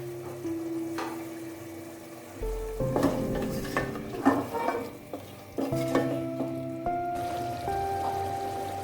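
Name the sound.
vegetables added to pan and frying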